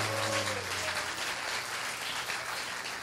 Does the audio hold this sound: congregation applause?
yes